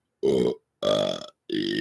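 Three loud, close human burps in quick succession, each voiced and drawn out, separated by brief silences.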